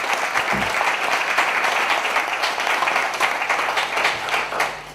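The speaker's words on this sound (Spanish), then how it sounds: "un fuerte aplauso para la organización" An audience at a mystery and paranormal conference applauds the event organisers, a loud sustained wash of many hands clapping evenly throughout, with no speech over it.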